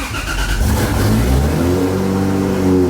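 Loud, close drift car engine firing up and revving, the pitch sweeping upward then settling into a deep, throaty idle.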